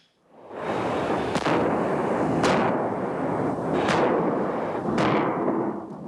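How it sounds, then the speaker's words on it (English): The battleship Missouri's 16-inch guns fire shells toward Kuwait City: four heavy booms spaced about a second and a half apart, each sharp report rolling into a long, loud rumble that never fully dies away. "The Missouri, firing its 16-inch guns towards Kuwait City"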